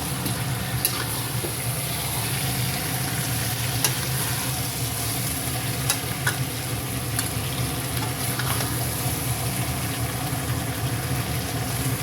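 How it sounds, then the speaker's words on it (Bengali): Mutton with spices sautéing in a pan, a steady dense sizzle and bubbling with occasional faint clicks and scrapes, close and even throughout, no talk. "মশলা আর মাংস ভালো করে কষিয়েছি"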